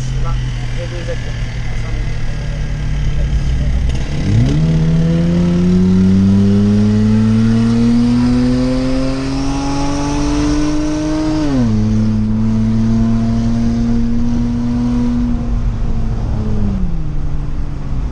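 A Hyundai Veracruz V6 with a stainless steel exhaust and diffuser revs loudly and up close, its engine note climbing, holding, then dropping again over a rumbling idle, while people talk beside it.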